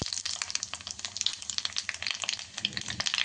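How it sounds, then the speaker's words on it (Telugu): Spices and garlic sizzle and crackle in hot oil close up as a tempering for dal, a steady hiss dotted with rapid pops and spits, with no voices. "ఆయిల్ వేడైంది కదా, ఇప్పుడు మనము పోపు తీసుకుందాం"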